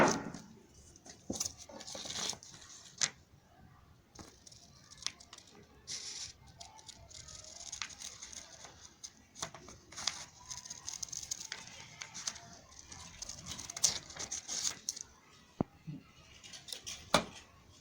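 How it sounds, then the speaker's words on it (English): Scissors cutting out a sandal back pattern shape, irregular close snips and paper rustles in uneven bursts with brief pauses, fairly quiet, no talking. "So what I'm going to do now is I'm going to cut this shape out."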